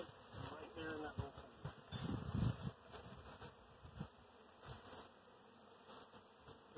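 Honeybees buzzing close by around a hive in a soft, continuous drone, faint and steady, with some low rustling and handling noise underneath.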